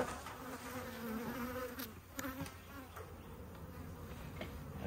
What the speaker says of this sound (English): These bees also really suck. These are mean bees.